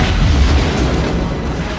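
A deep, rumbling burst of fireworks from the Disney animated film Mulan, a loud continuous boom with crackling low-end energy filling the whole moment without a break.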